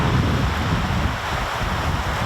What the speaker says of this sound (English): wind and waves are really strong